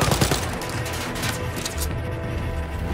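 Dense, rapid bursts of gunfire in Wolfenstein: Youngblood rattle loudly and almost continuously, like automatic weapons firing close by.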